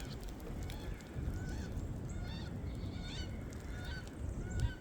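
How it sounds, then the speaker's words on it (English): Waterfowl on a snowy stretch of the Susquehanna River, calling in repeated honking bursts at a moderate distance over steady outdoor wind and river noise. "Duck out in the water."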